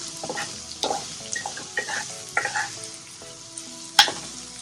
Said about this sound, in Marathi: आपण याच्यामध्ये पण स्मॅश करून घेऊया अजून बटाटे. भाजी चांगली मिक्स करून घेऊया.